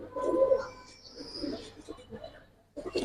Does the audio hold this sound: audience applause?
no